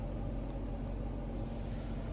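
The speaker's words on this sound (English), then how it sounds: "And that car comes over." A car rolls past in a busy Costco parking lot, heard from inside another vehicle as a steady low rumble that stays fairly even throughout, with no talking.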